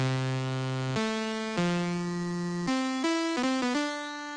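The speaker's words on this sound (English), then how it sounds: "but you also get a saw wave, which we have in here, which sounds like this" A bright, buzzy synthesizer tone steps through a short melody of sustained notes, harsh and rich in overtones, with no voices.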